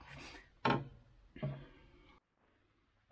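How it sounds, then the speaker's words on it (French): Screwdriver tip pushed through adhesive rim tape on a bicycle wheel to open a round valve hole, giving two short scraping, rubbing bursts a moment apart, close and fairly quiet, with no talking. "Donc vous prenez un tournevis, hop, vous faites le trou rond."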